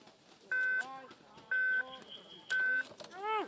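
Electronic timing beeps at a Paralympic alpine downhill race in Beijing, 2022: three loud, even tones spaced about a second apart, with a voice and course ambience running underneath.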